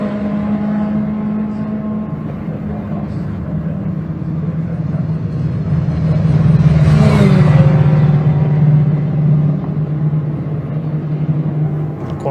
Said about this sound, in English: Quieter sound of the Clio, the sharp exhaust of the Civic there as well. The rumble of the Ginetta.